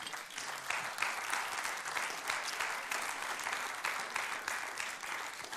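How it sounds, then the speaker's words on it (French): A conference audience applauds Arthur Keller again, a continuous wash of many hands clapping with slight surges in intensity, heard at a modest distance and fairly quiet overall. "Merci Arthur Keller, on vous applaudit à nouveau."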